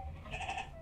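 A single short sheep bleat from the video game Amanda the Adventurer, a faint wavering cry under a low background hum.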